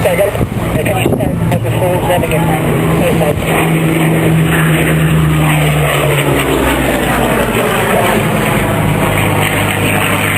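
A Spitfire fighter plane flies at an autumn air show at Duxford, its propeller engine droning loud and steady throughout, with a public-address voice faintly underneath.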